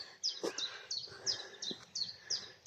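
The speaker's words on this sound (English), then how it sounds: "Loads of chaffinches around." Chaffinches sing outdoors in a repeated run of bright, short chirping phrases, fairly close and clear, with a few soft low knocks between them.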